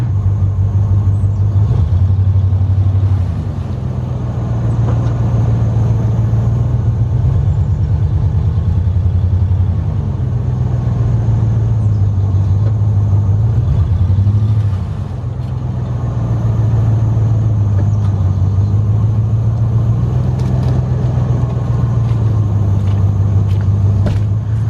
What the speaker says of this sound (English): we're just gonna put in reverse and try to slowly creep out of our ruts